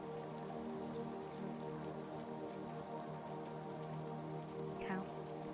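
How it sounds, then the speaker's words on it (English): Steady rain pours onto a surface around a lake house at night, a continuous even hiss with a brief higher chirp near the end. "The sound of the rain was a constant, soothing presence"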